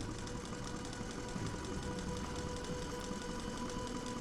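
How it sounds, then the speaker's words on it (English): A sewing machine switched on inside a house in the horror game FNAF Into the Pit, running with a continuous mechanical whir and rapid rhythmic clatter, steady and fairly close, with no voices. "there's a sewing machine right here we can turn on"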